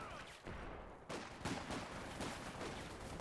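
Sniper rifle shots in Company of Heroes 2, part of an in-game battle: several sharp cracks ring out over a steady din of distant gunfire and ambient combat noise.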